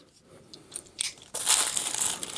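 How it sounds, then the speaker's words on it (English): A knife trims excess leather from a custom holster during break-in, a few soft cuts followed by a louder, sustained crunchy slicing sound close by. "And then we'll just slice this excess off."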